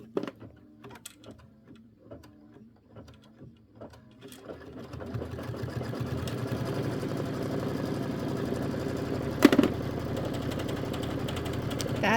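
An embroidery machine stitches fabric held in a hoop, starting with slow, spaced mechanical ticks, then settling into a continuous fast whirring hum with a single sharp clack near the end, with no talking.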